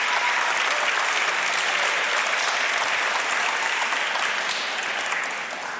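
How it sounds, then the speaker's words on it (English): An audience at an awards event applauding, a dense, loud, sustained wash of clapping hands that continues evenly and fades slightly at the end. "Y'all keep clapping until they get"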